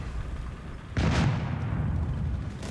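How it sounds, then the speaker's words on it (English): Explosions in the World War II strategy game Company of Heroes 3: a sudden loud boom with a rumbling decay over a continuous low battlefield roar. "Explosions in the south."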